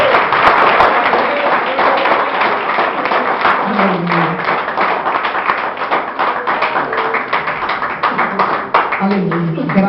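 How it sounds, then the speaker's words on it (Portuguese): A church congregation claps during a communion service, a sustained dense patter of many hands, loud and close, with voices talking and singing over it. "peço que você dê uma salva de palmas para o Senhor"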